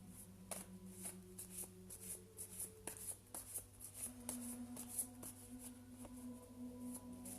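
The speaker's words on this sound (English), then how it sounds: "I'm going to draw another card" Psychic reading cards are shuffled and drawn, giving soft, quiet slides and flicks in an irregular rhythm over a low background hum.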